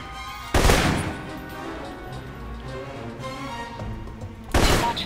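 Two loud assault rifle shots in the Alpha Protocol video game, one near the start and one near the end, separated by a low ambient hum.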